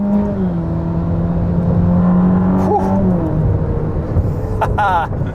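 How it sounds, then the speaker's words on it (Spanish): A Ferrari SF90 hybrid mid-engine supercar revs, its loud, sustained engine drone shifting in pitch as it rises and falls, heard close throughout. "Este coche suena súper bien. Seguro que piensas que los híbridos no suenan... Pero escucha."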